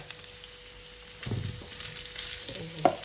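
Leftover rice hits a hot pan for fried rice, a soft frying hiss swelling as it is added, with stirring scrapes and a utensil clink near the end, no talk.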